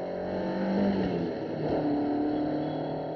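A 1985 Citroën BX Sport, 126 hp, driven on the Daytona Beach test circuit; a steady engine drone with a shifting tonal pitch, heard from inside the car, continuous and moderately loud.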